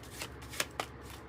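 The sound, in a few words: tarot cards being shuffled and drawn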